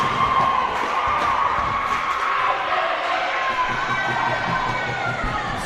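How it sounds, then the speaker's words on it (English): Mineola junior varsity volleyball players cheer for their varsity teammates at a high school match against Quitman, a steady wash of crowd voices and shouting echoing through the gym without a break. "JV volleyball team cheering on their varsity teammates."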